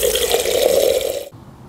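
Water runs steadily into a hose end feeder, a bright continuous pour with a faint gurgle that cuts off abruptly after about a second and a quarter, leaving near silence.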